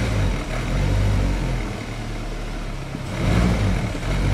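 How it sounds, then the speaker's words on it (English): A Nissan Altima engine with a fuel delivery fault revs under a snap of the throttle, rising twice in a rough, throaty surge that falls back rather than climbing cleanly. Close and fairly loud, with no talk. "Give it a snap throttle, and that's what it's doing."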